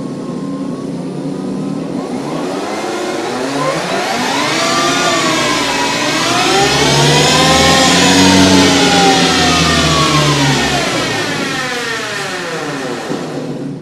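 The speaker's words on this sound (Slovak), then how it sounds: "toto je zvuk elektrických motoriek" A 2020 Harley-Davidson LiveWire electric motorcycle motor whines loudly, its pitch rising and falling in smooth sweeps as it revs, steady and close.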